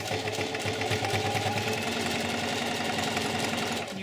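A sewing machine zigzag-stitches canvas moccasin uppers, set to a short stitch length of about 1, running in a steady, continuous mechanical whir close up, with no talking.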